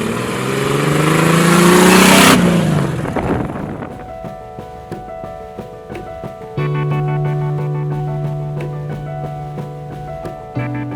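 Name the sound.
engine revving on Morgan Plus Four replica car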